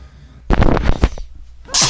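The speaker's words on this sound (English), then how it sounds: "I'm gonna sneeze." A single sharp human sneeze, loud and close, with a quick breathy intake before the explosive burst and a brief hiss trailing off at the end.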